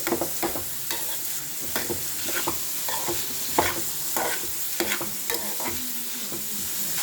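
Onions frying in a pan for a quick curry, a steady close sizzle broken by repeated scrapes and stirs of a spatula throughout, with no voices.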